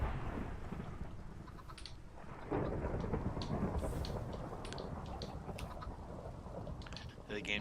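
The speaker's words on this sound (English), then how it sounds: "it sounded like the thunder struck, like, just over there" Thunder rumbles and crashes through a video-game thunderstorm in Minecraft, booming loudly with a sharp strike near the middle over steady falling rain, close and heavy throughout.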